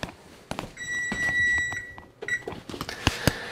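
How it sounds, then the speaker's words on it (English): A kitchen timer goes off near a pizza oven, its steady high electronic beeping repeating in bursts over several seconds amid clattering sounds, fairly loud and close. "That timer is going to go off."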